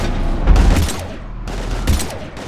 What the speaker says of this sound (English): We're almost to the Normandy. I've got Lieutenant Vega with me, but we're taking heavy fire.